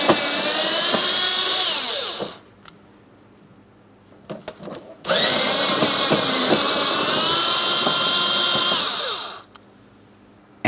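A power tool runs in two long whirring bursts while removing screws from the rear section of a 2008-2016 Chrysler Town & Country front inner fender liner, loud and close, with a short quiet gap between bursts.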